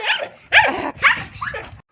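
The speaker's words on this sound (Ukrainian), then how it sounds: "Собаки як на них гавкають" A dog barks four times in quick succession at chickens in a village yard, sharp and close, with short pauses between the yapping barks.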